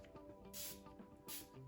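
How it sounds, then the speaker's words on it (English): Two quick bursts of Versali Rose Gold Skin Mist sprayed onto a face, each a short airy hiss close to the mic, separated by a brief pause over faint room noise. "I do want to spray my face with my, what is this? The Versali Rose Gold Skin Mist"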